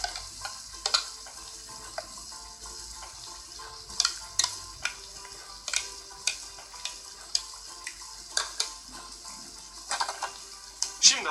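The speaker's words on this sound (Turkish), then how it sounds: "Bir tane kaşık alıp pestomu bir kaba transfer ediyorum." A spoon scrapes and taps against bowl and blender container while pesto is transferred, giving repeated short clinks and wet smears at an irregular rhythm, close and moderately loud over quiet kitchen background, no talk.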